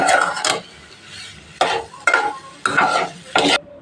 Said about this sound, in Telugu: పొటాటో వేసిన తర్వాత ఈ విధంగా ఉప్పు కారం అంతా పొటాటోకి కొంచెం పట్టేలాగా ఫ్రై చేసుకుంటాం